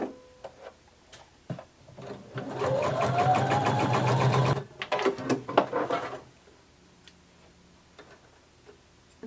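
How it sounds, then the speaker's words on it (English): A sewing machine stitches a romper seam in one steady whirring run of about two seconds, close and clear, framed by ticking clicks and handling of the fabric and machine, with no speech. "we're going to sew this together using a 7/8 of an inch seam allowance."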